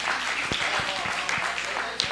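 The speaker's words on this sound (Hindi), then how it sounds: "जोरदार ताली" Audience applause at a Bait Bazi poetry recitation contest in Aurangabad, a dense, steady wash of clapping that fills the whole moment, with a few cheering voices mixed in.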